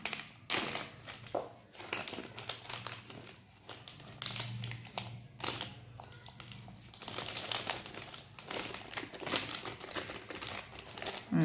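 A plastic pouch crinkles and rustles in quick, irregular bursts as a candle is packed into it and zip-locked, close and moderately loud with brief pauses between handling noises.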